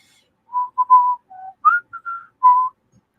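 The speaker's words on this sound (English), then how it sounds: "Whistle like that." A person whistles loudly and clearly in a short melodic phrase of about eight separate notes, pitches rising and falling, set against near silence with no talk.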